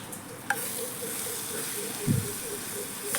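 Kashmiri chili powder and turmeric being sautéed in a pan for a fish curry, a loud continuous sizzle and hiss with a clink of a utensil and stirring scrapes, close by.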